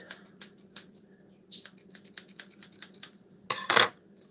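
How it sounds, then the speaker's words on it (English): Scissors snip several times with quick, crisp clicks in short bursts, ending in a louder, longer cut, while making a tiny hole for a small funnel during reishi mushroom tincture preparation. "Scissors."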